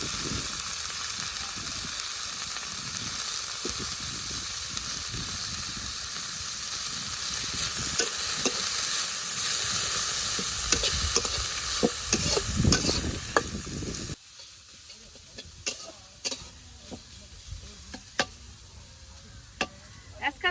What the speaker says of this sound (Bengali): এখন তেলে 12 মশলার পাতাটা দিয়ে দিই।